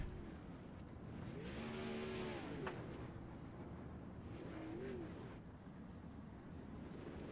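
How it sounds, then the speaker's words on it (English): Race cars rolling onto a dirt short track at a night race, their engines droning and rising in a couple of passing swells with tonal whines, heard at a distance under the open track atmosphere. "Tyler Schell, Cameron Merriman, and Alex Smolders will be the 8 cars coming onto the racetrack."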